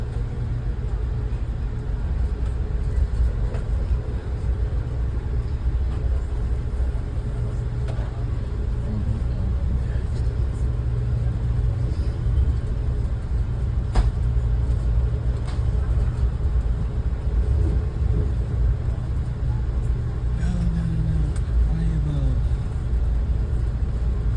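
Steady low rumble of an Amtrak regional passenger train running toward Washington, DC, heard from inside the car, with continuous wheel and track drone at an even, moderate level and no talk.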